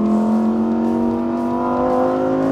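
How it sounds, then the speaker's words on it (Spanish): A 600-horsepower Lamborghini Huracán EVO RWD Spyder accelerates hard in Sport mode. Its engine gives a loud, close, continuous roar that climbs steadily in pitch, with no other sounds. "si cambio al modo Sport y acelero, ¡boom!"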